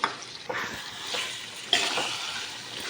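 A spoon stirs curd into a vegetable soya biryani mixture in a pan, giving wet scraping strokes with a light sizzle, several close stirs in an uneven rhythm.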